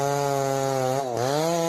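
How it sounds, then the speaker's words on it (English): A powerful chainsaw cuts into a giant tree in a forest. Its engine holds a loud, continuous buzzing whine that briefly bogs down and dips in pitch before recovering. "the chainsaw screams, shattering the stillness with raw power."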